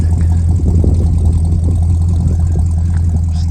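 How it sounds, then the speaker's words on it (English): A 1972 Buick Skylark Custom convertible with dual exhaust idles nearby, a steady deep rumbling drone with a slight lope and no revving, outdoors with no voices. "The sound of that dual exhaust sounds fantastic."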